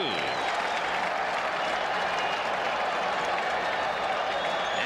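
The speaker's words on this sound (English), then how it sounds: "Crowd coming alive." Crowd noise fills a baseball stadium during the 1986 World Series, a dense, steady wash of applause and cheering heard from a distance, with a faint voice occasionally beneath it.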